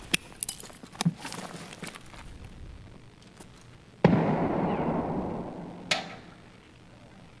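A grenade explodes in Escape From Tarkov, a sudden loud blast that rumbles and fades over about two seconds, preceded by scattered footsteps and small clicks, with a sharp crack shortly after.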